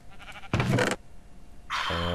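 A Minecraft sheep bleats twice, a short wavering cry and then a second one that starts after a pause, both close and clear.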